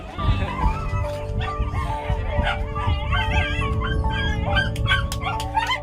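Dogs on a small island bark, yip and whimper together at close range, a busy, overlapping chorus of high cries and short barks.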